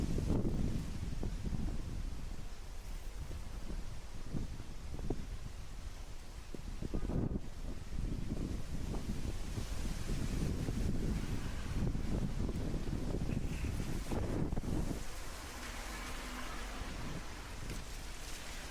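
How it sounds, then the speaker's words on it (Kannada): Heavy wind and rain on the Tirupati ghat walking path, a dense steady roar of downpour with gusts buffeting the microphone, continuous and close throughout, with no voices. "ಇಂಥ ಮಳೆ ಇಂಥ ಗಾಳಿ ಒಳಗನು"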